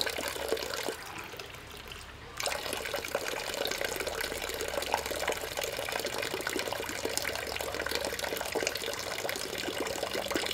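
Water pours steadily from a spring water station in Japan, a continuous close splashing stream that pauses briefly near the start and then resumes loudly.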